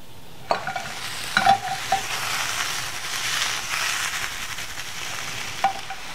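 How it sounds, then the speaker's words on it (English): Calamari sautés in a hot pan with a close, steady sizzle, marked by several sharp clinks and scrapes of stirring, loudest near the start. "So it's ready now, and I could start sautéing this calamari."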